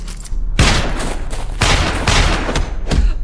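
Gunfire in an action film scene, dense bursts of loud shots in rapid succession, several sharp volleys booming close and continuing almost without pause.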